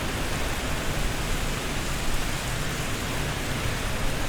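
Rainfall in Microsoft Flight Simulator over Plant City airport in Florida: a loud, unbroken hiss of heavy rain, uniform and close, with nothing else on top.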